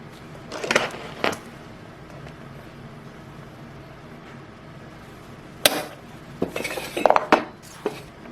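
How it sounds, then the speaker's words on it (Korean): A centre punch is struck to mark a drilling point on metal while making a small camping frying pan, producing sharp metallic clinks: a couple early, then a cluster of several hits near the end. "센터를 한번 때려주죠"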